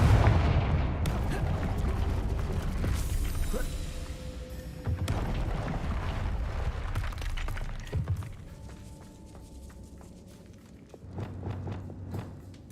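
Rapid fiery blasts from the Confringo spell in the Hogwarts Legacy video game go off one after another, loud and booming, mixed with game footsteps and thuds, settling into quieter hits near the end.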